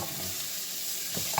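Garlic sizzles steadily in a hot frying pan, a loud continuous hiss with a light stir near the end.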